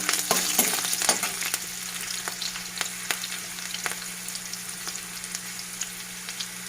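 Green chilies fry in hot oil in a kadai for a Sindhi kadhi tempering, giving a steady close sizzle with crackling pops and occasional stirring scrapes throughout.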